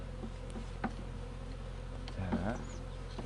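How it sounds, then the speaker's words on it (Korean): Honeybees at a hive opened in late January for spring buildup give a steady low drone, close and continuous, with a few faint clicks and handling noises over it. "벌이 너무 많으니까"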